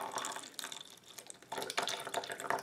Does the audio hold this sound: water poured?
yes